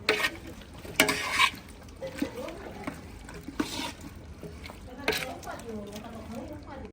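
Water is poured over a mixed vegetable curry cooking in a pot on a wood-fired chulha, with sloshing, stirring and sizzling bursts. Someone talks over the sounds.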